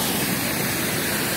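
A river rushes past in a dense, loud wash of flowing water, steady and unbroken like a waterfall, heard close with no voices.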